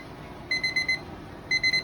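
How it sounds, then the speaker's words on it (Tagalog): Cooking timer alarm beeps while pork kinamatisan with pechay cooks, sounding two bursts of four quick electronic beeps separated by a short gap, moderately loud over low kitchen background noise. "Nag-alarm na siya."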